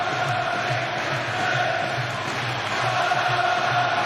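Arena crowd at a Manchester boxing match, Ricky Hatton against Vyacheslav Senchenko, roaring steadily in a continuous wash of massed voices that swells slightly toward the end.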